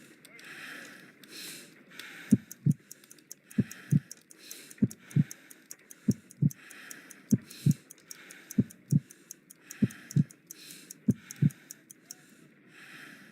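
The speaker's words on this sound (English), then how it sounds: "I need to concentrate and count the heartbeats." In the video game Sherlock Holmes Crimes and Punishments, a heartbeat thumps in regular double beats, about a dozen pairs, heard low and close over a soft breathy background.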